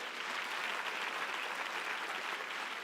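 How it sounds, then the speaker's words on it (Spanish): A church congregation applauds in a continuous, even wash of many hands clapping, heard from some distance with no pauses. "Si ese aplauso es para el Señor."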